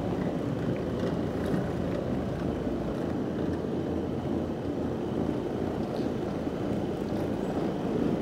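An Auric floor machine fitted with a pad driver cleans heavily soiled carpet of a 50-50 cotton and polyester blend, giving a steady, loud motor drone with a broad whooshing rumble and no pauses.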